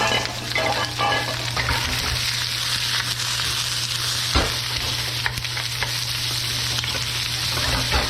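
Vegetables stir-frying in a hot oiled wok give a steady, loud sizzle and crackle with a constant low hum underneath and occasional sharper spits, no voices.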